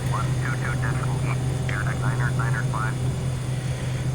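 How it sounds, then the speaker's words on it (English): Light aircraft engine drone in the Prepar3D flight simulator during a landing approach from Spokane to Grangeville, a steady low hum running throughout beneath continuous talk. "We are landing this aircraft."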